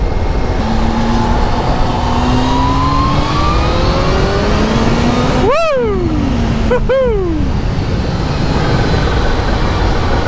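A loud motorcycle engine drones steadily with rising and falling pitch, then revs sharply up and down twice as gears change during engine braking, over heavy wind rush.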